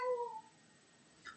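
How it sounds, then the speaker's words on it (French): A house cat gives a single short meow, close and clear, followed by near silence and a faint rustle. "Désolé, c'est mon chat."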